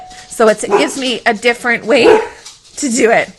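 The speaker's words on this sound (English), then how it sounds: "So excuse the background dog barking." A pet dog barks and yips in the background of a home, its sharp barks mixed in and partly masked by a person talking over it throughout.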